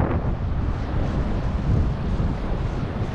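Strong wind blowing on a fishing boat, a steady, loud broadband rush of microphone buffeting with a low rumble beneath and no voices.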